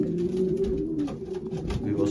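Racing pigeons at a club, basketed for a 383 km race, coo in a low continuous burble, close and steady throughout.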